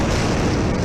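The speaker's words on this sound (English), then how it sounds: "That's an explosion." A loud, dense explosion roars from an 8-bit style animated sequence, filling the sound with sustained noisy rumble and no talk over it.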